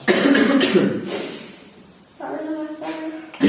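A few harsh, close coughs come in two bursts separated by a short quiet pause.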